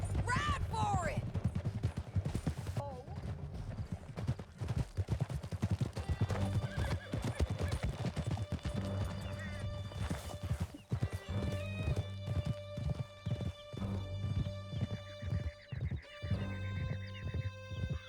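A horse gallops in the video game Red Dead Redemption 2, its hooves beating a fast, steady clip-clop with a whinny near the start, while shots and a musical score swell beneath.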